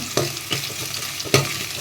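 Coconut frying in a pan is stirred with a utensil, giving a few distinct scraping strokes with a soft sizzle underneath, close and clear, with no talking.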